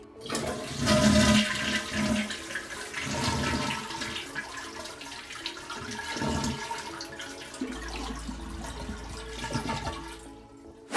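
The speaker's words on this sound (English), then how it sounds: "push the flush handle and flush all the water out of the tank" A constantly running toilet flushes as the handle is held down, a loud rush of water that gurgles and fades as the tank drains, leaving a low hum at the end.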